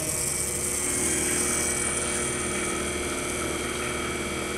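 A Bridgeport Series I 2HP dovetail overarm vertical milling machine running under power feed, giving off a steady, loud mechanical whine and drone that holds unchanged throughout, with no pauses or talk.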